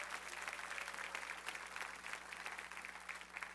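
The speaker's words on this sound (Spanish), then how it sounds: "Dale un fuerte aplauso al Señor." Congregation clapping in a church service, a steady wash of applause from many hands sustained throughout, fairly quiet and even with a low constant hum beneath.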